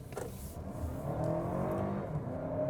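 A Toyota Crown Platinum accelerates hard, its engine note rising steadily from a quiet start to a sustained, fairly close whir with no talking.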